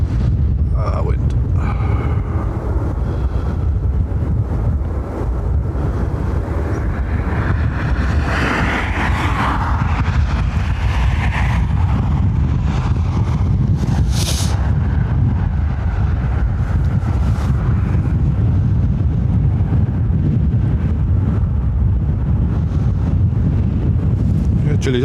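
Heavy wind buffets a microphone outdoors at Dublin Airport, a constant loud rumbling roar throughout, with occasional speech underneath.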